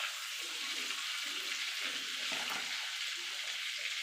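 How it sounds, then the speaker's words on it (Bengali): Bay leaf and whole cumin seeds fry in melted butter, giving a steady, soft, continuous sizzle and crackle that holds evenly throughout with no voices. "ফোড়নটা একটুখানি ভাজা ভাজা করে নেব।"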